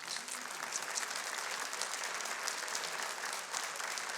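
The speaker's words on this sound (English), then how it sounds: "I think they're applauding you" A studio audience claps steadily, a dense, even wash of hands heard at moderate distance and sustained without a break.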